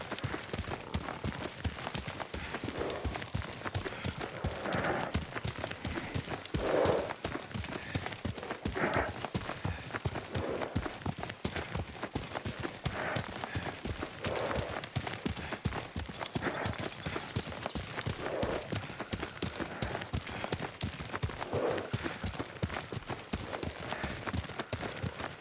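Steady horse hoofbeats at a riding pace in Ghost of Tsushima, a close, continuous clip-clop that lasts throughout with no pauses.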